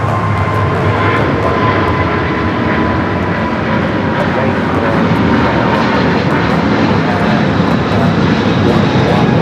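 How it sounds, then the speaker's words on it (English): A Volaris Airbus A320 landing at LAX gives a loud, sustained jet engine roar with a faint whine, steady and close for the whole stretch. "That is Volaris 7848 coming in from Oaxaca on the A320."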